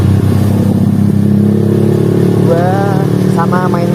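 Viar three-wheeled motor vehicle descending a hill at night in third gear, a steady low engine drone close by, with a voice talking over it toward the end.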